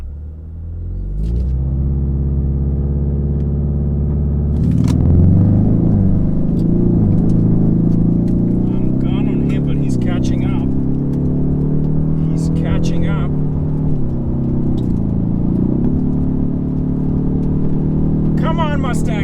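A Ford Mustang 2.3L HPP with a 10-speed and a VW Jetta GLI with DSG accelerate hard side by side in a race, a loud continuous rising engine drone heard from inside the car, with people talking over it.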